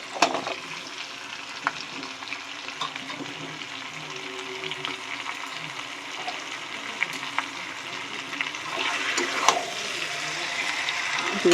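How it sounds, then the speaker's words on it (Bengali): Fried potatoes and marinated chicken stir-fried in a pan for red chicken curry: a steady close sizzle with repeated spatula scrapes and clinks, growing a little louder toward the end. "এর মধ্যে ভেজে রাখা আলুগুলো দিয়ে দেবো"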